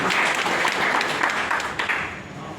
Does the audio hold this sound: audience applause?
yes